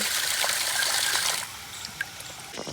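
Water pours with a bright, splashing hiss for a moment into a drinking vessel for sparrows, then stops, leaving a few faint drips and small clinks.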